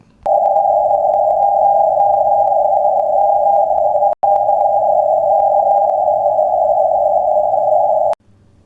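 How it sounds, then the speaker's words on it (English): A steady Morse code CW tone received on the 160 meter amateur radio band, loud and continuous with one brief break midway, then cutting off abruptly. "you can see the CW signals being picked up as tiny flashes of light on the lower part of the meter dial"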